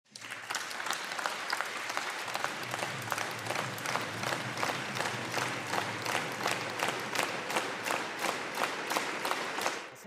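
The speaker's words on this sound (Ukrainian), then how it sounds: "Після виступу президента всі присутні в залі аплодували стоячи" Sustained standing ovation from a parliament hall audience after a presidential speech, dense applause with rhythmic synchronized clapping beats, loud and steady throughout without talk.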